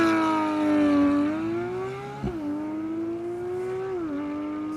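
Porsche 991 911 GT3 RS with a PDK gearbox revving hard, its engine note climbing and then dropping sharply at quick gear shifts, one crisp pop midway and another at the end, loud and close with no talking.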